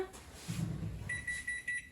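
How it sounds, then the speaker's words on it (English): Kitchen timer beeping as banana bread finishes baking in the oven, a series of bright electronic beeps in quick pulses following a low rustle of movement nearby. "our timer is going off"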